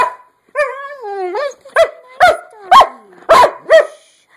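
A dog barks loudly nearby, starting with a long drawn-out howling whine and then giving a rapid series of five or six sharp barks in a steady rhythm.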